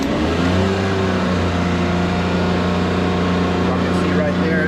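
Kubota diesel generator rated 12 kVA at 3,600 RPM, running at a steady loud engine drone with sustained low harmonic tones, close by, with a voice speaking over it.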